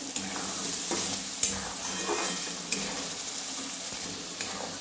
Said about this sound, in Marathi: बघा मस्त असं भाजून घेऊया मसाला सगळा.